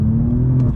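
A BMW M4 CS engine revs briefly from inside the car, giving a loud, deep, close exhaust drone under a moment of acceleration.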